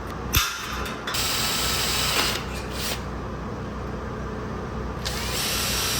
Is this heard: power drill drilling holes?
yes